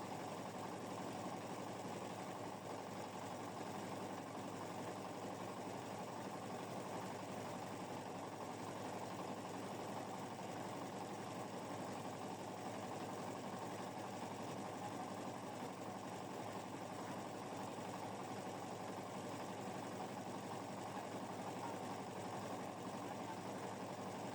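An automatic paddy husking machine runs with paddy poured into it, a continuous, even mechanical drone and whir that stays at one level throughout, heard from a moderate distance.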